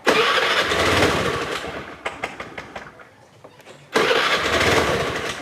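A Honda Vario scooter with a carburetor and sluggish, unresponsive throttle revs loudly and close by, drops to a rough, sputtering idle with ticking pulses, then surges back to a strong rev.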